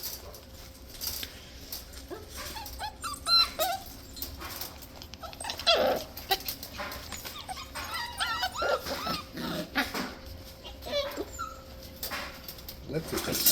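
Six-week-old Scottish terrier puppies playing, with whimpers, yips and small growls scattered close by while a person talks.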